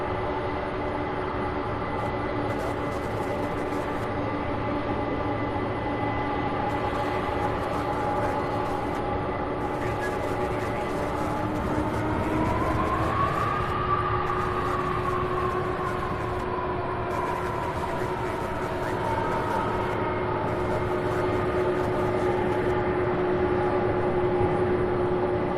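A UPS Boeing 767 jet on the runway at Louisville International Airport gives a steady, loud engine drone with a rising whine partway through, continuous throughout with no talk.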